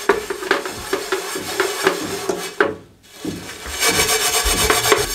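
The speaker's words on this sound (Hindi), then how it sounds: "अब ये हमने स्क्रब ले लिया, इसको इस तरीके से हम रगड़ेंगे इस तरीके से।" A scrubber rubs hard against the burnt underside of a cooking pan in steady, grating back-and-forth strokes. The strokes pause briefly near the middle and then resume more densely and loudly. No one speaks.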